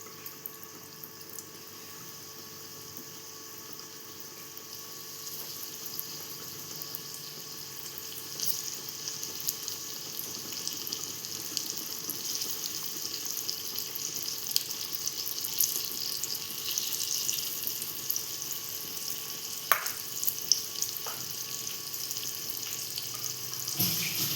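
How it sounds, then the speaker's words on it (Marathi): Fish (baga) frying on a tava over a gas flame, a steady soft sizzle and hiss that gradually grows louder, with occasional faint clinks near the end. "आता आपण तव्यावर ठेवूया तळायला, म्हणजे फ्राय करायला"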